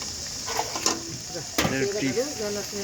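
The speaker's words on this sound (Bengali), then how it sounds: "ছোলা রান্না করা হইতেছে" Chickpeas cooking in a pan for an iftar snack: a steady sizzle with spatula scrapes and knocks, close by, mixed with a voice speaking.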